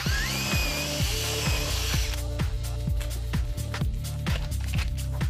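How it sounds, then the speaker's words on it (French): Power drill boring through wooden battens with a wood bit, a loud steady whine that shifts pitch partway through, backed by a regular rhythmic knocking throughout. "Forez bien d'abord les lattes avec une mèche à bois."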